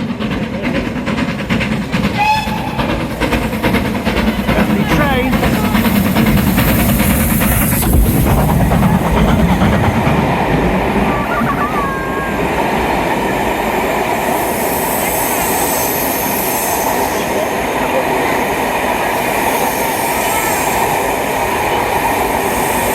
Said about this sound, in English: That's a proper choo-choo train